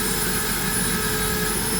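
A rotary tool fitted with a Kutzall burr cuts steadily, giving a loud, continuous high-speed whine and grinding hiss with no pauses and no voices.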